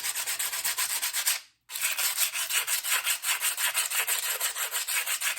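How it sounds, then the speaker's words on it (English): Sandpaper rubs across the rough surface of a mannequin head in a steady, rapid back-and-forth scratching rhythm, close and moderately loud, with one brief pause partway through. "If it's much rougher, like it is through here, try a little sandpaper."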